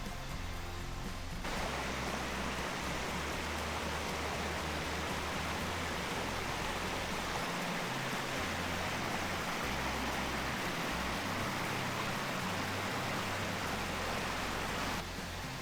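A mountain valley stream on a summer trekking path toward a waterfall rushes with a steady broadband flow. The sound is continuous and even throughout, with no voices.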